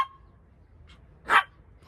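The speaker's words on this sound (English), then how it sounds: "They're running around barking." A single sharp dog bark rings out in a quiet space, with a couple of faint yips before and after.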